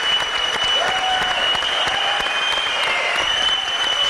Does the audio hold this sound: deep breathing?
no